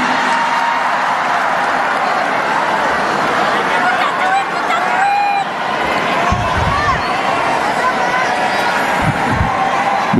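A large crowd at a political speech in Jakarta applauds and cheers loudly, a dense, sustained roar of clapping and shouting, with voices talking within the noise.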